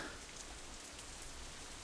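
Steady rain pours down at night, a dense even hiss with soft pattering drops spread across the whole span, no voices over it.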